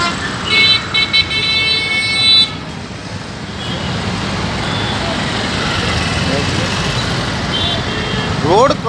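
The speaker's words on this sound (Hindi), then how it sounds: "इतना ट्रैफिक हो रहा है, रोड क्रॉस भी नहीं करने दे रहे हमको।" Dense road traffic at Pari Chowk in Greater Noida: a steady roar of cars, trucks and buses passing close by, with horn toots early on and a pedestrian talking over the din.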